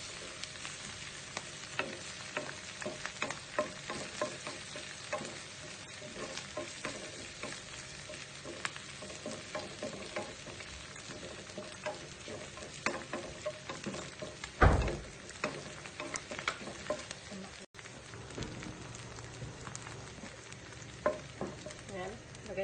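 Garlic and beef frying in a pan give a steady, close crackling sizzle with stirring scrapes throughout, loudest around the middle, with no talking.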